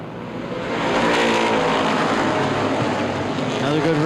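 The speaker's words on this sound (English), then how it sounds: "Atkinson and Burge back to green" Street stock race cars restart at a speedway, engines roaring loud and steady as the field accelerates back to green, with a race announcer talking over the engine noise throughout.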